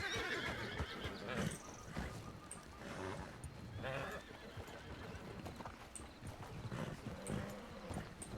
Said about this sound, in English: oh, that's just a normal horse.